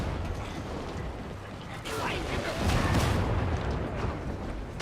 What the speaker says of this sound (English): Throwing grenade! Grenade prime. And throw it.